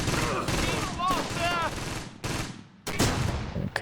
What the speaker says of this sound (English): my mortars are landing